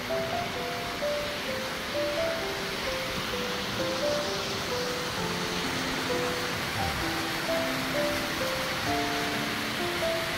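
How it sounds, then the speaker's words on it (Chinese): Mountain waterfall on the Batongguan historic trail in Taiwan, a steady rushing wash of falling water that holds evenly throughout, with a soft melodic music line playing over it. "才来到旖旎瀑布，"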